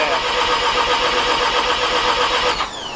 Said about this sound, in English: Nope, nothing. Oh, that was a nice backfire though.